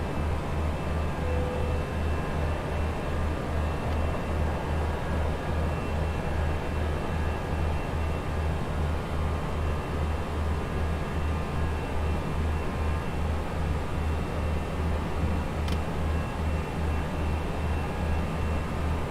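Steady, loud droning engine noise of an A320 airliner climbing after takeoff in the X-Plane 11 flight simulator, a constant low rumble with a faint broadband hiss, unbroken throughout with no talk.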